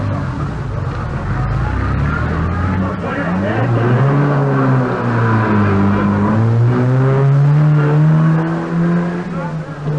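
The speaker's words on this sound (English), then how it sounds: "where the cars leave at intervals of 1 minute" Sunbeam Rapier rally car leaving the starting ramp at an Alpine rally, engine revving and rising in pitch as it accelerates away, loud and continuous with a second engine droning underneath.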